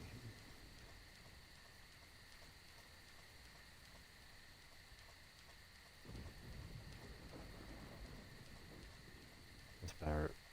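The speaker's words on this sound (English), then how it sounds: "does it rain in this town" Steady heavy rain hisses throughout in the video game Deadly Premonition, with a low rumble of thunder midway and a sharp crack near the end.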